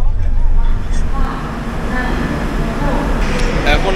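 Steady low rumble and rattle inside a 3rd AC economy coach of the Saraighat Express, loud and continuous, with faint voices in the carriage.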